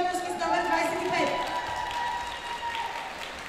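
Studio audience applauding a dancing couple at a youth dance competition, steady clapping that carries through the whole stretch at moderate loudness, with a voice talking over it.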